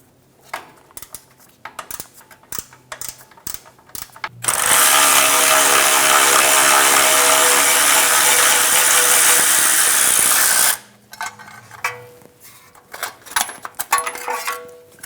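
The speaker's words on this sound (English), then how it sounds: "Using a 13mm socket or wrench, we're going to remove the bolt for the heat shield." A ratchet with a 13mm socket works a heat shield bolt on a 2014-2018 Chevrolet Silverado 1500: quick clicking bursts, then a long loud continuous buzz of rapid ratcheting, then more irregular clicks, close and without talk.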